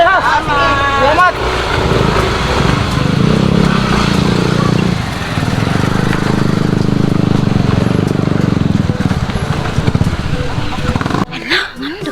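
A motorcycle rides past nearby with a steady buzzing engine drone that rises and holds for several seconds before fading, with brief talk at the start and end.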